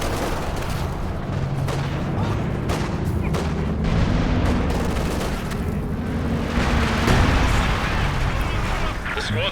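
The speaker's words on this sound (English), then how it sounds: "Coordinated barrage here." Dense, sustained barrage of gunfire and artillery blasts in a multiplayer war video game, loud and continuous with overlapping pops and booms, with a voice talking over it.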